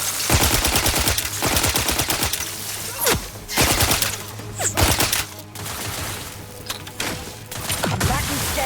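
Rapid automatic gunfire rattles in The Outer Worlds 2, long loud bursts of closely spaced shots broken by short pauses, with louder single blasts mixed in.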